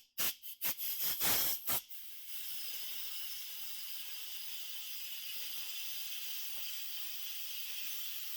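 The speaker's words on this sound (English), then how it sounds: "until all the steam comes out." Steam vents from an Instant Pot's pressure release while pasta e fagioli cooks, starting with several sharp bursts of hiss and then settling into a long, steady, close hiss.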